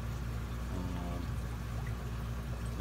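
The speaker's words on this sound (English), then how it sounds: "I did a quick vacuum of the angelfish tanks" Steady water flow from a siphon while vacuuming the gravel of an angelfish aquarium, a constant close rushing and trickling that stays even from start to finish with no talk.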